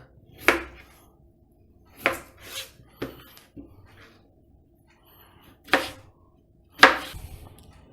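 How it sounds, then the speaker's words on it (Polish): A knife dices potatoes on a cutting board, giving five sharp, close chops spaced unevenly with quiet pauses between them and no talking. "Ziemniaki kroimy również w kostkę."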